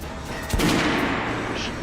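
Shotgun blasts in the video game Metro Last Light Redux: a sharp boom near the middle of the short stretch, with a dense crackling rumble around it that tails off slowly.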